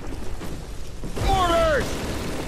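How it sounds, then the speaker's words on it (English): Mortar fire in the first Call of Duty video game lands as a rumbling blast with a whistling, falling tone in the middle of the clip, against muffled game background noise. "Mortars!"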